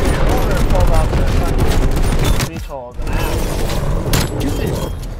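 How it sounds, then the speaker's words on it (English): Dense, sustained gunfire from the Black Ops Cold War video game crackles in rapid bursts throughout, with a brief dip midway, under loud talk from players. "Oh, they shooting"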